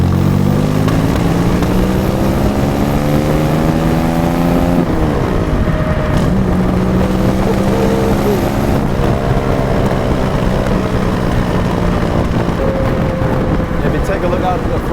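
A Jaguar SS100 vintage sports car engine revs and accelerates, its pitch climbing in repeated sweeps and shifting between gears, loud and close throughout.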